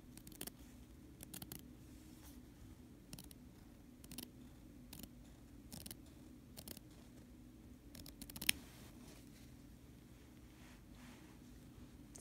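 Scissors snip through fabric, cutting along the line between two threads. Quiet, separate crisp snips come at a loose, uneven rhythm against a faint background hum.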